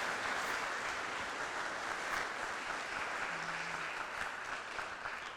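An audience applauds after a welcome to country at a talk in Perth, dense steady clapping heard at a distance, fairly quiet and sustained throughout.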